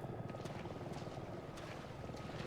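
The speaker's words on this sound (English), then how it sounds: "Oh, hey, there's Chris's helicopter." Chris's helicopter in Resident Evil 7 gives a faint, steady low rotor rumble with soft repeated thumps, heard at a distance.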